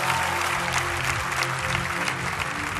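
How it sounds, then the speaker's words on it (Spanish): A church congregation at a spiritual help service breaks into sustained applause, a dense, even wash of clapping from many hands lasting the full few seconds, with no voices on top. "Pero denle un aplauso."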